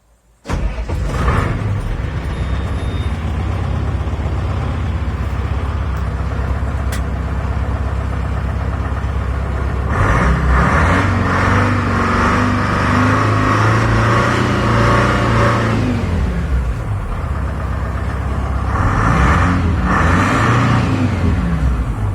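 Detroit Diesel 4-53N engine with N45 injectors, running cold in Brazil, holds a steady loud diesel drone throughout, with its pitch rising and falling in two revving swells midway and near the end.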